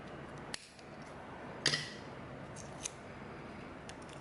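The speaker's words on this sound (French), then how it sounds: "Vous en coupez un petit morceau." A small piece of basic adhesive tape is snipped from the roll, giving a couple of quick, sharp clicks and crisp cuts over a quiet room background.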